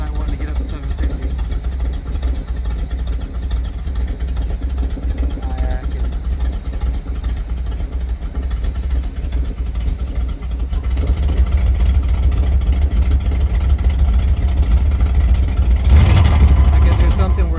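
A Ford Fairlane with a Y-Block V8 idles roughly and struggles to hold its speed, a loud, close, steady rumble that swells slightly in the later part, with someone talking over it.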